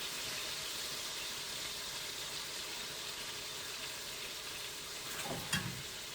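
A utensil scrapes the bottom of a pan as scallop sauce sizzles and fries, a steady dense hiss throughout with a brief louder scrape near the end, no talking.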